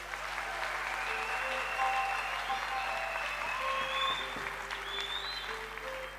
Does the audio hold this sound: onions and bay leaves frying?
no